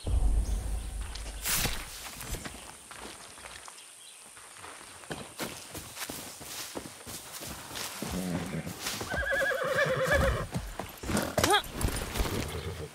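A horse in the Far Cry 6 video game whinnies and snorts while hooves clip-clop steadily, with a loud neigh near the end and scattered game ambience around it.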